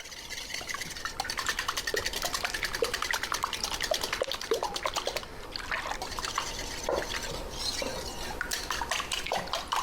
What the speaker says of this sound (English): To that, we're going to add 2 cups of whole milk.